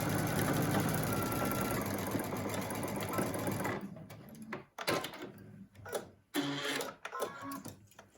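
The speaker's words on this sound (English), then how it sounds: "Now you need to sew down both of these curved edges with a 1/4 inch seam, following the curve as you sew." A sewing machine runs steadily while stitching the curved edges of a fabric surgical mask, then breaks into short stop-start bursts of stitching with brief pauses.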